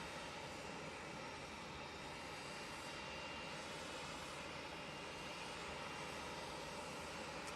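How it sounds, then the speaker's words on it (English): A Cessna Citation CXLS business jet at Manchester Airport gives a steady, broadband engine roar, fairly faint and continuous for the whole stretch with no voices. "This is a little Cessna citation"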